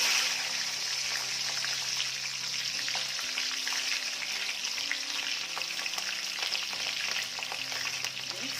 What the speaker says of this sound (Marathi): तेल गरम झालं की त्यामध्ये टाकायची आहे मिरची